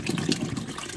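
Water running from a tap over a cauliflower head to rinse off soap, a steady close splashing and gushing flow that continues without a break.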